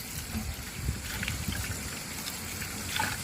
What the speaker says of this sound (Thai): คราวนี้ล้างเป็นล้างน้ำผ่านไปนะคะ